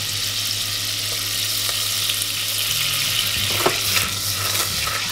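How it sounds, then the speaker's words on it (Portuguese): Generous spoonfuls of butter melt and sizzle in a pan, a steady close frying crackle with a low hum underneath and a few brief clinks near the end. "Deixa a manteiga derreter."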